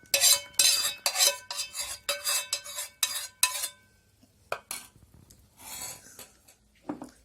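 Eggs are whisked with melted butter, oil and a pinch of salt in a bowl, giving rapid scraping clatters in bursts for about three and a half seconds, then a pause and a few softer strokes.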